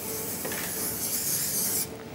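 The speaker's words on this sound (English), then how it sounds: "I'm spraying the moulds because I'm going to bake with them, and in order to avoid the mixture sticking to the mould," An aerosol can sprays oil onto cake moulds before baking, a close, steady hiss lasting nearly two seconds before it stops abruptly.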